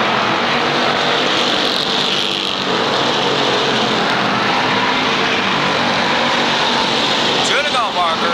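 Late model stock cars race around the Waterford Speedbowl oval in a 1991 feature, their engines forming a loud, continuous roar under an announcer's voice.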